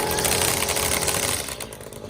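The engine of a STIHL grass trimmer runs at a steady, buzzing mid-pitched whine, fairly close and continuous, easing slightly toward the end.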